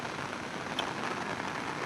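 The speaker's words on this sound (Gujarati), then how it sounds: "તમે જોઈ શકો છો વરસાદ અત્યારે પણ ચાલુ જ છે" Steady rain falling in Gir forms a continuous, even wash of hiss at moderate level, with no clear individual drops and no voices.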